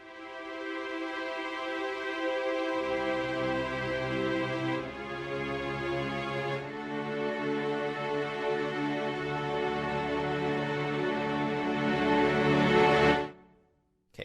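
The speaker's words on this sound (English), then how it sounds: "So it kind of sounds like this, the string patch." String patch from the Red Room Audio Palette Symphonic Sketchpad orchestral library, sustained ensemble chords swelling and shifting over a low bass line, fairly dry and close, stopping abruptly near the end with no voices.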